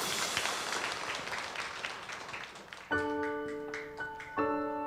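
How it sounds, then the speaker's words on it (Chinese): A congregation claps at a Chinese-language Sunday church service to welcome a pastor, a brief patter of hands that fades after about three seconds as bright, sustained instrumental notes begin. "我们拍手来欢迎吴牧师"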